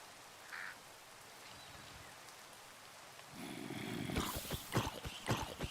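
Rain falls in Minecraft as a soft, steady hiss that grows heavier and louder partway through, with crackling patter and sharp spattering bursts near the end.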